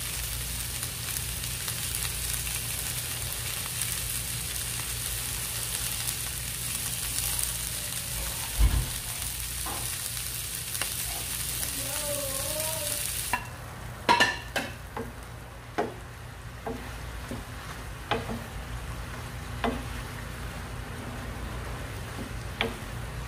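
Mixed vegetables fry in a pan with a steady, close hiss, while a utensil stirs them. Partway through, the sizzle quietens and sharp scraping clicks of the spoon against the pan stand out.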